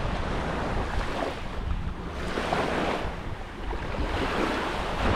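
Sea waves rolling and washing onto the Croatian coast, a steady broadband surge with gentle swells of loudness, wind buffeting the microphone throughout, no voices.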